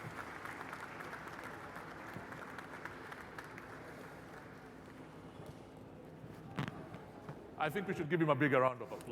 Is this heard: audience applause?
yes